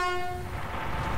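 A train horn blares in a loud, sustained blast with clear stacked harmonic tones that fade into a rumbling wash of rail noise as the train passes close by.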